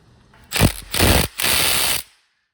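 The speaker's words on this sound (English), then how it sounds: "see if I can do it without getting my Milwaukee all full of oil" A Milwaukee impact tool works at a dirt bike's oil drain plug, firing three short, loud, close bursts of buzzing whir separated by brief gaps, then falling silent.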